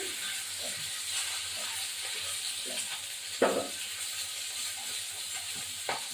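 Rohu fish pieces fry slowly in a pan with a little oil, giving a faint, steady sizzling hiss broken by a few soft utensil clinks.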